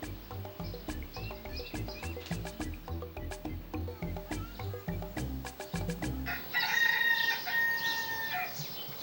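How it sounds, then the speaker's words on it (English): A rooster crows several times in a zoo farmyard, a series of loud, bright calls that stand alone, followed near the end by a denser burst of farmyard noise. "At the zoo farmyard, a rooster crows,"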